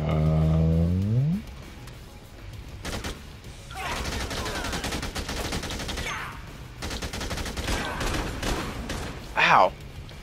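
Shotgun blasts in Dead Rising 2, several sharp loud shots fired in bursts through the clip while people talk over the action.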